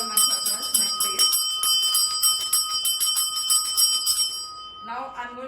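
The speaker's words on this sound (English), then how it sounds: "I'm showing it with the bell because it's easier for you. I would just ring it." A small hand bell rung repeatedly for smudging to cleanse a room, its bright metallic ringing sustained for several seconds before fading, with a voice briefly audible near the start and end.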